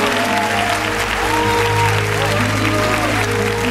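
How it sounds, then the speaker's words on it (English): A church or concert congregation claps along under sustained organ or keyboard chords, the clapping steady and fairly loud but partly blended into the music. "Somebody ought to really clap your hands."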